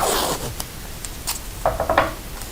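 Packing tape is pulled off its roll in a few short, scratchy rips, near and fairly loud, with a louder tearing burst toward the end; no one speaks.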